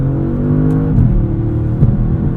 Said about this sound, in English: Right around this corner, you hear that sport differential just bring us around.